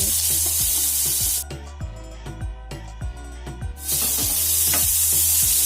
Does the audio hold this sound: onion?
yes